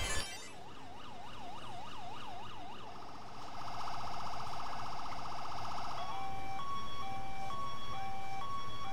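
Old-style emergency vehicle sirens in a video game: an electronic wail in a rising and falling cycle, switching to a rapid yelp, then a steady two-tone hi-lo pattern, loud and continuous.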